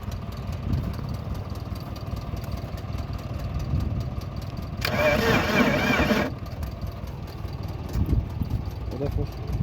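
A BMW E34's engine cranks without catching, a mid-loud rough starter churn in the foreground, with a brighter burst of noise partway through and people talking nearby.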